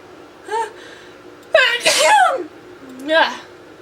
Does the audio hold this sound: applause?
no